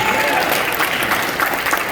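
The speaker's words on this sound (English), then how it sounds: "Hey, quick round of applause for Chad." Steady burst of audience applause at a Texas Rangers fan event at Globe Life Field, many hands clapping at once, loud and continuous for a couple of seconds.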